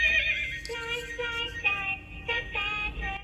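Electronic horse whinny from a button on a toy barn sorter playset, a tinny recorded neigh with wavering rises and falls lasting a few seconds, played close and fairly loud.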